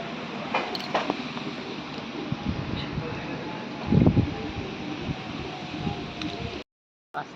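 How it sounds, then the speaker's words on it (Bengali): Strong stormy wind gusts through an open rural setting on a rainy day, a loud, continuous rushing roar with rustling that holds steady before cutting out near the end. "ঝড় করে হাওয়া দিচ্ছে।"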